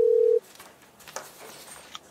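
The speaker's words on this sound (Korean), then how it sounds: "전화 연결해 보겠습니다." A telephone line tone sounds as a call connects during a real estate call-in consultation: one loud, steady beep lasting under half a second at the start, followed by faint, quiet line noise with no talking.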